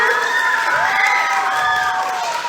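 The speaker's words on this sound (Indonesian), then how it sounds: "tepuk tangan dulu untuk semuanya" Students at a school student council candidate debate cheer and shout together, with sustained raised young voices rising and falling over a constant crowd murmur; clapping is hard to pick out.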